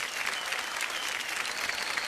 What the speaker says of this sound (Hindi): जोरदार तालियां बज जाएं ऋचा अनिरुद्ध जी के लिए।